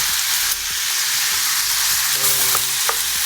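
Onions sizzle loudly in olive oil in a hot pan, a close, continuous crackle with a few scraping stirs and a faint tonal clink or two.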